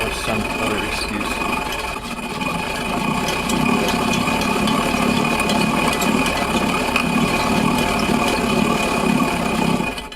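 A homemade grain mill with grooved grinding discs runs continuously, giving a loud, steady mechanical whir with rattling, rubbing and a constant high motor whine, and a voice talks over it.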